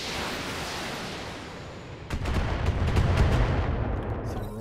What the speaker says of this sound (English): Some rockets.